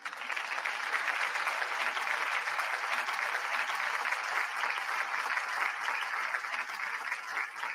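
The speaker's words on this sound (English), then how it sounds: "y'all give Selmore Fudd a round of applause" Steady applause from a crowd of listeners in an online stream, a dense even patter of many hands clapping continuously at moderate loudness, with no voices on top.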